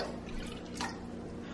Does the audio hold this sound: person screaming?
no